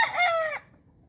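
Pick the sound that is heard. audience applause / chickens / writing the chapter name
chickens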